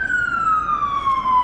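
An ambulance siren sounds loud and steady as it passes, its wailing tone sliding gradually downward in pitch over a moment, with faint road noise beneath.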